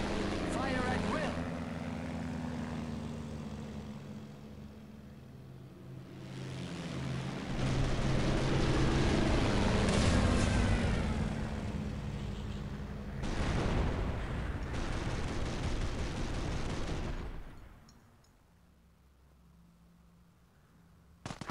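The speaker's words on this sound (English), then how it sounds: "Anti-aircraft batteries manned! Fill the skies with tracers! Aircraft incoming! Fire at will!" Anti-aircraft guns in the video game Company of Heroes fire in dense, rumbling bursts alongside engine drone and distant booms. Commands are shouted over the din before it drops to near silence.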